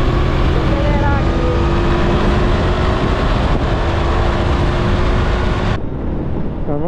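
Motorcycle engine accelerating on the road, a loud continuous droning roar mixed with wind rush, cutting off abruptly near the end as the sound drops.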